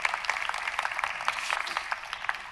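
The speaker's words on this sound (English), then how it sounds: "Round of applause." A conference audience at sTARTUp Day 2023 claps in a steady patter of many hands, fairly quiet and distant, with no voices over it.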